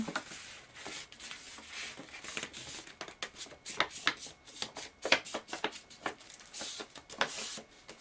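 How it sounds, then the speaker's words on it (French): A sheet of paper is folded back and forth, diagonally and in the reverse direction, for an accordion booklet, giving close, crisp rustles and creases in quick irregular bursts. "Et le mieux, c'est de la plier en sens inverse, en diagonale."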